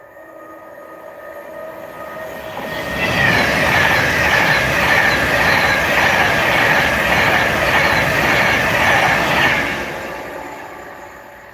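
A train on the West Coast Main Line north of Crewe rumbles past close by, swelling from a quiet build-up into a loud, steady roar with rhythmic wheel clatter and faint squeal before easing off, with no voices.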